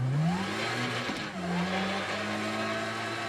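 A rally car's engine revs in Assetto Corsa Rally while it drives a stage, rising and dropping through gear changes with a brief dip mid-run, loud and steady throughout.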